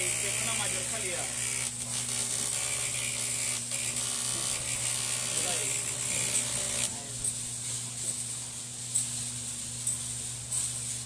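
A coffee threshing machine hulling beans in Antioquia, Colombia, its fan blowing off the husks: a steady mechanical hum and rattling, ratchet-like clatter running continuously, with a voice speaking over it.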